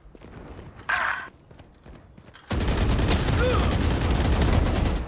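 Valorant gunfire opens with a short burst, then becomes a loud, dense, sustained volley of rapid shots filling the second half.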